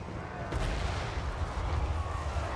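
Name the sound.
flame cannon firing at infantry, Total War Warhammer 3 video game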